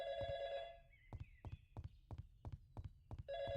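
A telephone rings in the video game YIIK: a bright electronic ring at the start that returns at the end, with a steady series of clip-clop-like knocks in between.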